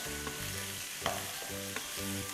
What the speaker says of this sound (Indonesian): Nah ini kita aduk, kita masak sampai dia sedikit matang